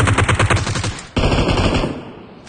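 Rapid automatic gunfire during a competitive video game scrim, a dense burst of rattling shots that breaks off briefly and then resumes as a loud, sustained volley.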